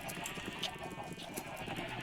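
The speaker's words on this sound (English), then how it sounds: "Now why are there sheep in the chicken farm?" Sheep bleating in Minecraft near a chicken farm, a few short game-animal calls over a steady busy background with faint clopping and some talk mixed in.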